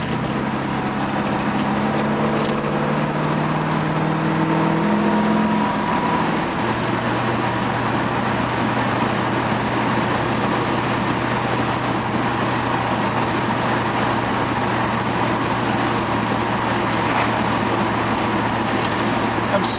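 A Porsche 928 drives at night, a steady engine drone and road roar heard from inside the car, with the engine note shifting down once early on and then holding constant.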